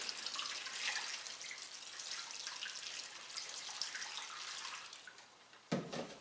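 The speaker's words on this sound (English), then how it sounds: "I'm going to add about half the water here." Water poured from a container into a plastic bag of dry clay glaze mix, a steady broad rushing splash that continues close and fairly loud for most of the clip, then stops with a brief sharper splash near the end.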